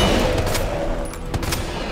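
Gunfire in Resident Evil 2 Remake, a rapid run of heavy shots and booms from a player's weapons, loud and dense with no gaps between reports.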